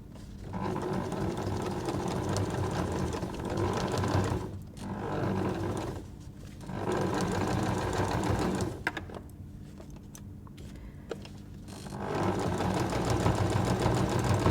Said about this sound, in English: I'm just going to sew so that this inside fold of the fabric is 1 mil to the left of it.